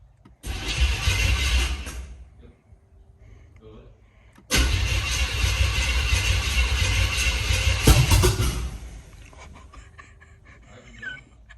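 A 1997 Chevy S10 with a 350 small block engine cranks and fires after sitting two years, roaring loudly to life, dropping back, then restarting and running at a steady high idle for several seconds.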